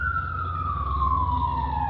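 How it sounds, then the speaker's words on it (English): A siren wails in one steady tone that slowly falls in pitch, loud and continuous over a low rumble of traffic. "Remember, when you hear that siren"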